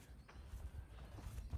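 A horse walking on the ground during groundwork training in dressage, with soft, faint hoof thuds falling in a slow, uneven rhythm; no talking.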